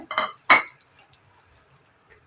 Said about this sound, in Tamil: இந்த ஒரு ரெண்டு நிமிஷம் நம்ம வதக்கி விட்டுக்கலாம்